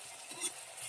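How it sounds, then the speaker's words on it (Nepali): Tomatoes frying in a pan on an Indian stove give a faint, brief sizzle as a spoon stirs them. "अब यो टमाटर लगाइदिए हो। टमाटर लगाएर एकछिन भुट्ने हो।"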